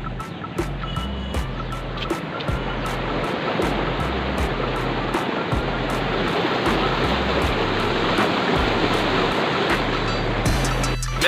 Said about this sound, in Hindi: इधर कितने ऊपर से बह रहा है, कितना पानी आ रहा है और कैसे गिर रहा है